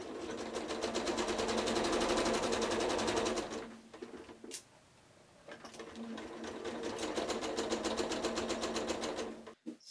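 A sewing machine stitches a seam in medieval-style linen braes, a close, fast mechanical chatter that runs for several seconds, stops briefly with a few small handling sounds, then starts again and runs on before halting.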